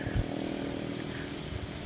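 A Tanzu cordless chainsaw motor runs steadily at a moderate level, its whirring drone continuous throughout with no voices.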